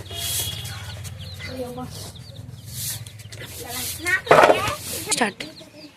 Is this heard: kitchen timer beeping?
no